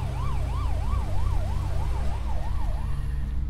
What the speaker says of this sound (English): Carlis, get in the ambulance.